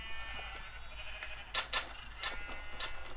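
Minecraft sheep bleat several times in quick succession, fairly close and clear over a faint game background hum.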